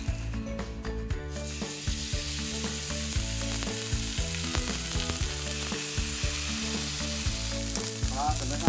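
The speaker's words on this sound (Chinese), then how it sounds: "所以我们就直接这么下去干煎" Steak, wagyu or Angus beef, dry-frying in a hot pan with only a little oil, a steady loud sizzle with faint stirring and scraping under background music, no talk.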